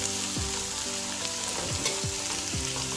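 Onion, sweet pepper, scallion and thyme sizzle steadily in a hot pan for Jamaican brown stew fish, with a few soft stirring scrapes breaking through the constant frying hiss.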